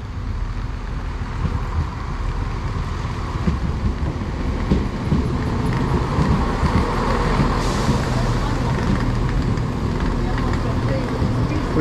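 Class 171 unit 171804 pulling into a station in East Sussex as the 0948 service from Eastbourne to Ashford International, a steady loud rumble of wheels and engine with some voices throughout.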